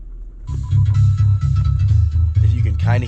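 Heavy bass from an Eonon R80 car stereo, turned up with bass and loudness boosted, thumps steadily through a truck cab in a loud, continuous throbbing low-end pulse under the music.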